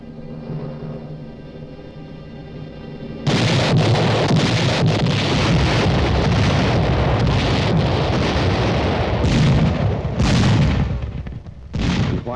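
World War I artillery fire rolls out in heavy, overlapping booms of shells and cannon. A low rumble comes first, then a dense, loud barrage of blasts that runs almost without a break to the end.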